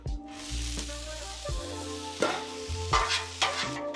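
Hashbrowns frying on an outdoor griddle, a close sizzle with a low steady hum and several scraping stirs, irregular and fairly quiet.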